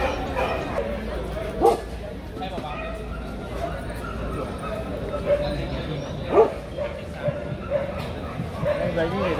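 Several dogs barking and yipping around a yard at a Bac Ha breed certification event in Vietnam, scattered sharp barks and whimpers at middle distance under continuous talking.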